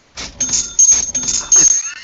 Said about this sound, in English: The cash register